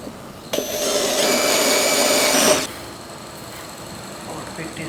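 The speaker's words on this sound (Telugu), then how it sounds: "okay, let's start drilling" A power drill bores into a wooden puja mandir frame, a loud, steady whine lasting about two seconds before cutting off, with quieter room sound afterward.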